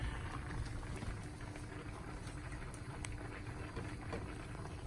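Shrimp cook in a simmering Thai-style coconut curry, giving a quiet, steady bubbling with soft pattering pops.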